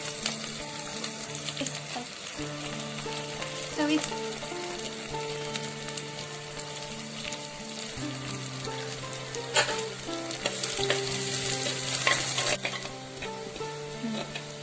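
Onions and garlic frying in a pan until golden for a drumstick gravy, loud steady crackling sizzle with occasional stirring scrapes, all under a continuous tonal music bed.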